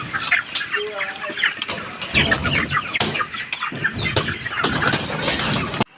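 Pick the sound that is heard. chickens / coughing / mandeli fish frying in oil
chickens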